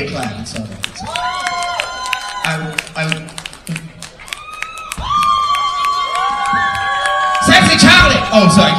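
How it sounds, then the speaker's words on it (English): Cabaret audience at a winter convention show in a casino claps and cheers as a performer is introduced, with scattered claps and shouts under an emcee's talking that swell into louder cheering near the end. "It's okay to clap, it's all right."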